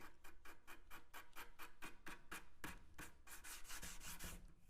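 Sandpaper rubs over filler and the edges of a 1970s wooden sideboard in steady back-and-forth strokes, about a dozen rhythmic passes close up that grow busier and louder toward the end, with no talk.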